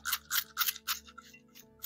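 A spray bottle mists vinegar onto a wool dryer ball, giving four short, sharp hissing spritzes in quick succession, followed by fainter rubbing sounds, close up and quiet.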